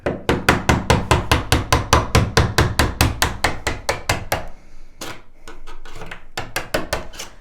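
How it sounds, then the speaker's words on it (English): Rapid, steady hammer taps on a screwdriver driving a pin out of a door hinge, close and loud, about two dozen blows, followed by a brief pause and scraping, then a few more taps. "We're just going to give this a nice little tap, and we're going to get this pin out of the hinge."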